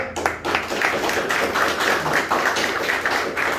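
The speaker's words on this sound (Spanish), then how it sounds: "vamos a tener un aplauso, Señor" A church congregation applauding together after a talk, a steady wash of many hands clapping at moderate distance for a few seconds, with no one speaking over it.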